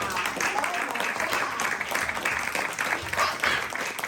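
Steady applause from a comedy club audience, a dense wash of clapping that holds at an even level throughout.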